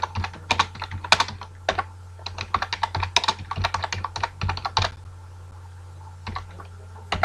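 A computer keyboard clicks in quick, irregular bursts of keystrokes while a Python comment is typed, over a low steady hum, with a sparse pause near the end.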